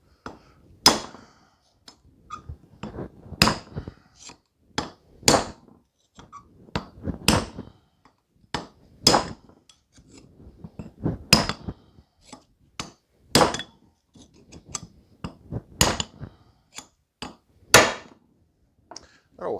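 Repeated sharp hammer blows on metal, driving a wheel bearing race into a trailer hub, close and uneven in pace, with brief pauses and a few quiet bits of speech between strikes.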